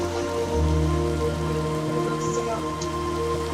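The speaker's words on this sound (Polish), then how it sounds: "Fajnie pogoda, ponieważ jest deszcz." Steady rain pours in a video game, a dense, continuous patter on surfaces with a low hum underneath, even in loudness throughout and with no voices.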